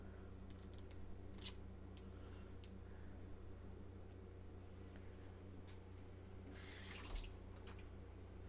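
Tap water runs faintly at a kitchen sink as a tomato is rinsed, a soft continuous flow with a few small clicks and splashes.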